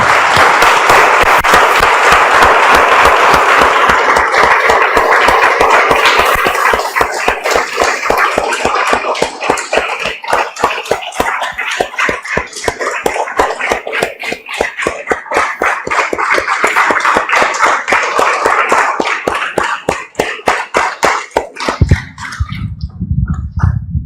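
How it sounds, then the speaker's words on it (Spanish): A church congregation applauding loudly and continuously, the clapping settling into a steady, rhythmic beat before stopping abruptly near the end. "Damos un aplauso, hermanos, al Señor."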